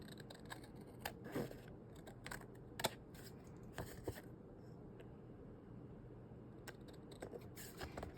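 Paper sketchbook pages for a junk journal are trimmed by hand, giving quiet, irregular scissor snips and light paper scrapes close by against a faint background.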